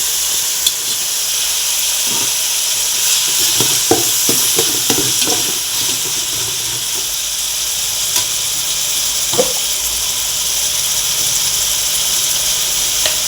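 Mint frying and being stirred in a pan for brinji rice, a steady loud sizzle and hiss with occasional scraping stir strokes and clinks over the top.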